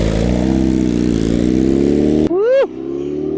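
A 2025 BMW S1000RR with a full titanium Akrapovic exhaust holds a loud, steady engine drone. It then cuts off abruptly, and a short, sharp rising-and-falling rev tone follows before a quieter tail.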